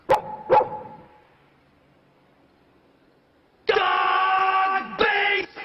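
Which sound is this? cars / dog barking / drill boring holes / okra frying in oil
dog barking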